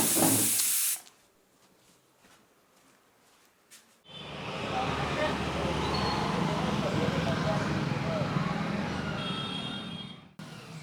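Steam from a pressure cooker gives a short loud hiss, then after a quiet pause a long, steady, forceful hiss that runs for several seconds before cutting off abruptly.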